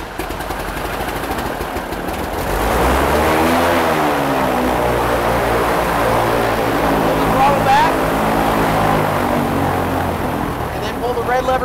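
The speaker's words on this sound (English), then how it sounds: "While keeping one hand on the throttle, crank engine until it starts, no more than 10 seconds." A propeller aircraft engine is cranked with a hand on the throttle, catching after about two seconds and settling into a loud, steady propeller roar that continues to the end of the clip.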